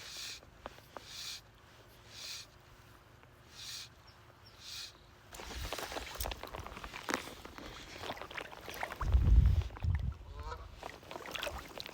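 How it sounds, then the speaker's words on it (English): Canada goose honking outdoors on open water at a fishing spot, several calls rising over a steady wash of water and wind, with footsteps or movement nearby toward the end. "A Canada goose."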